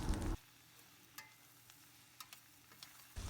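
Vegetables coated with chili powder and garam masala are stirred in a pan for veg pulao. A louder sizzling burst opens, then quiet frying with a few soft scraping clicks from the spoon, and a louder rise returns at the end.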